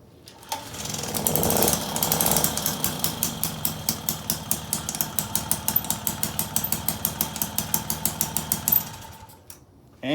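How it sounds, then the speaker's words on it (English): A Motobecane moped engine fitted with a new carburetor fires up after a brief kick, then runs with a loud, rapid two-stroke putter of regular pulses for about eight seconds before cutting back. "Let me show you how well it starts now. It should start in half a turn."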